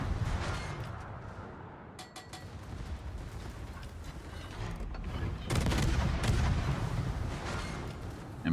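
Warship secondary guns in World of Warships firing in a dense, continuous barrage of booming shots and rumbling blasts, heavy and close, swelling louder toward the end.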